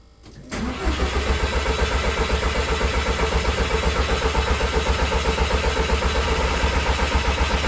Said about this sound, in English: we're going to crank it a bit more and keep going and see if we get some oil pressure